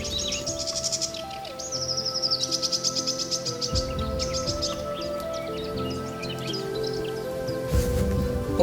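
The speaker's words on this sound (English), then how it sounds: "Listen to the bird sounds." Birds sing beside the River Thet near an old raised Roman road along the Peddars Way, several chirping and trilling calls at moderate distance over a soft steady outdoor background.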